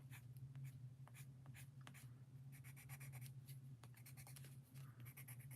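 Colored pencils scratch steadily across paper, adding detail in quick close strokes with short pauses, over a low constant hum and no talking.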